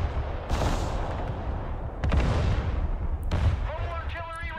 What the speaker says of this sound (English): Man, this artillery is just being relentless.